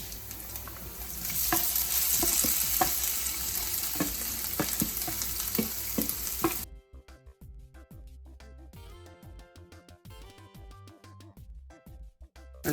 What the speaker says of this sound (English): I'm gonna go ahead and add my saltfish to the pan now.